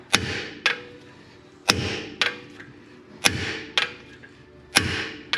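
An impact hammer strikes metal in a car workshop to free a broken bit stuck inside a brake disc assembly, sharp ringing clangs in paired hits repeating about every second and a half, each fading quickly.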